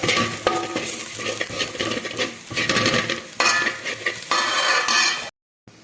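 Spice powders for a Kerala-style red chilli fish curry being stirred and roasted in a pan: steady scraping and clinking of a spoon against the pan over a soft, continuous sizzle, loud and close, ending in a brief silence.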